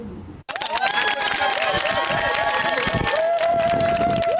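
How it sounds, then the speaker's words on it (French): A crowd cheering and clapping in celebration of a court victory in Burkina Faso, loud and sustained with voices, whistles and shouts blending together after a brief silence. "Des acclamations en guise de célébration de la victoire judiciaire gagnée par la famille Sankara"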